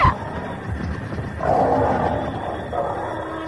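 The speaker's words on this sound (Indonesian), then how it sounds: "Aku mendengar suara harimau dari sebelah sana" A tiger roars in several deep, growling bursts, loud and close, each swelling and fading with short pauses between.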